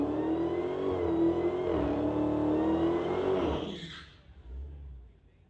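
An Outlaw class street-legal race car at a MOPAC drag night revs hard, a loud, close engine note holding high and climbing before cutting off sharply, then a brief low rumble as it fades.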